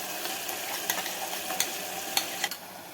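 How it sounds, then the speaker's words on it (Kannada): Tomato, onion and ground coconut masala fry in oil with a soft, steady sizzle and scattered light scrapes of a spoon stirring close by. "ಹಸಿ ವಾಸನೆ ಹೋಗೋವರೆಗೂ ಇದನ್ನು ಫ್ರೈ ಮಾಡ್ಕೋಬೇಕು"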